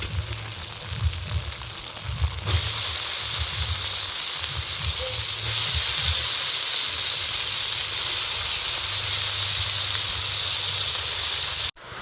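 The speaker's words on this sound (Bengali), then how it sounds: "মশলা কষানো হয়ে গেছে এখন বাঁধাকপিগুলো দিয়ে দেব" Cabbage drops into a pan of frying ground dried chilli and cumin paste, setting off a loud, steady sizzle and hiss that holds close and continuous, with softer stirring and pan scraping underneath.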